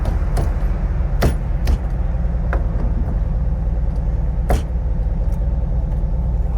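A 1971 VW Bus engine idles steadily with a heater stuck on, a continuous low rumble interrupted by several sharp clicks and clanks nearby, with no talking.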